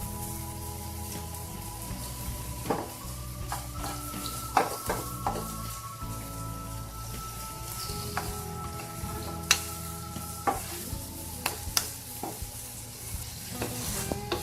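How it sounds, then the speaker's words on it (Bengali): A carrot mixture for carrot laddu being stirred in a pan to keep it from burning: a spoon scrapes repeatedly with sharp clicks over a soft, steady sizzle, close by, with no talking. "নাড়তে হবে নাহলে গাজরটা পুড়ে যাবে"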